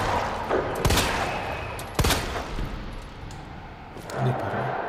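Gunfire from the Resident Evil 2 Remake video game, with a couple of sharp, loud shots spaced about a second apart, followed by a duller thump near the end over a steady game background.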